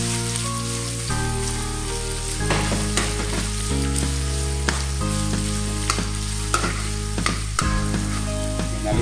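Ginger dropped into hot cooking oil in a pan, giving a steady, close sizzle and crackle with scattered sharp pops and spatters throughout, no voices.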